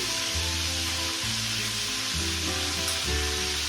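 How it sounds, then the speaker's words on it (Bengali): Butter crackles and sizzles steadily in a pan of hot oil for a dish of Chicken Maharani, a continuous, close, moderately loud frying hiss with faint low hum underneath and no talking. "আর একটু বাটার দিচ্ছি"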